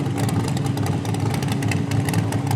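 A 351 Cleveland V8 in a mini rod tractor puller roars loud and continuous under load, with a dense rumbling drone and clatter throughout.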